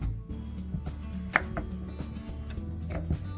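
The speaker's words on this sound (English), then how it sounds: "We're going to cut it into small cubes." A knife cuts a half-kilogram bar of vegetable glycerin soap into small cubes: a steady series of dull chopping knocks on a board, close and fairly loud, over a low background hum.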